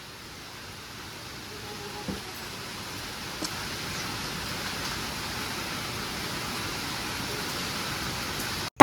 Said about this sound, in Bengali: এভাবে আমি জানলার পাশে শুয়ে শুয়ে বৃষ্টি উপভোগ করছিলাম